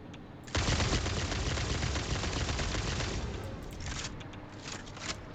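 Dense, sustained automatic gunfire in a video game, aimed skyward at radioactive pigs, erupts after a brief quiet lead-in and roars loud and continuous for several seconds, with a few sharper cracks near the end.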